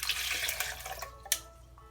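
Water poured into a blender for an avocado green smoothie, a light splashing, trickling pour that runs close and fairly quiet, ending with a brief sharper splash near the end.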